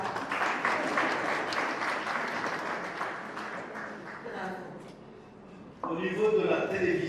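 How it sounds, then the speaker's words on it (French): Audience applause at a Burundian journalism awards ceremony, a steady burst of clapping that fades, then a voice speaking over the room. "Est-ce qu'on peut applaudir pour Ornella?"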